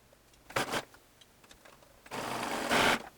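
A domestic sewing machine stitches elastic onto fabric for a ruched V-neck top, running in two bursts: a short whir, a pause with faint handling, then a longer, louder sustained run close by.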